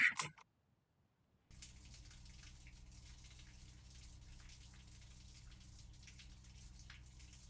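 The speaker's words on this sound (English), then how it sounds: "I will grab the hose, give it a wash" A hose sprays water steadily over a car in the game My Garage, a soft continuous hiss that starts after a brief clatter and a moment of silence and then runs evenly at low volume.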